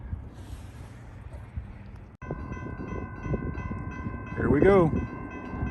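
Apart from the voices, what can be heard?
CSX freight train with 408 axles passing southbound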